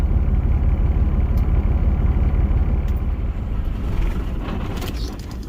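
A container truck's engine idles steadily, with a constant low rumble and an even, dense throb that stays loud and close throughout. A few faint clicks and knocks sound near the end.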